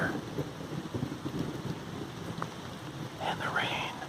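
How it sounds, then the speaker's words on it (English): Soft rain patters steadily on a trail in Maryland while faint, distant rumbles of thunder roll underneath, the whole scene quiet and enveloping with no voice heard. "I'm sure you can hear the thunder"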